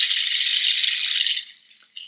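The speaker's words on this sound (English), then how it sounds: "With cacao seed pods, so you can make them sound really nice like this." Cacao seed pods shaken as a rattle in a sound healing session, a close, bright continuous hiss-like shake for about a second and a half before tailing off, with one short final shake.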